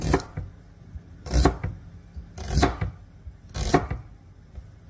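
A knife chops onions on a board for arbi curry, making three distinct heavy thuds roughly a second apart with quieter knocks between them, close and clear with no talking.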